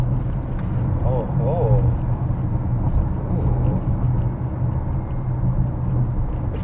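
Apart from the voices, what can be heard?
Tesla car accelerating hard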